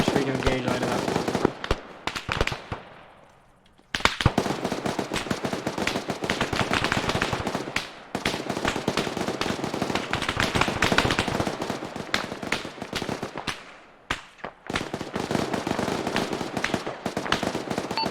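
Sustained machine gun bursts and sniper shots during military training, loud rapid gunfire rattling in long strings with brief pauses, with voices talking in between.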